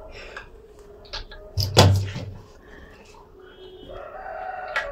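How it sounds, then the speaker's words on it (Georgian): A rooster crows at moderate distance with a rising, drawn-out call, surrounded by a few clucks, knocks and faint background voices in a quiet rural setting. "ეს მაგივრად მამალი მიესალმა"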